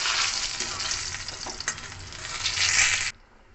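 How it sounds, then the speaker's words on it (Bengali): Brinjal pieces fry in hot oil with a loud, dense, continuous sizzle while being turned. Occasional scraping stir sounds come through, then the sizzle cuts off abruptly near the end, leaving quiet room tone. "বেগুনগুলো ভালো করে উল্টিয়ে পাল্টিয়ে ভেজে নিয়েছি।"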